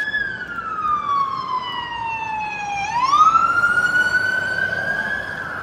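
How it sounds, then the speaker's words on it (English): A fire engine siren wails past on a street in Las Vegas, one long steady tone sliding down, then pitching up sharply as the truck passes, loud and close, with no voices. "Oh, and a fire engine going the other way too."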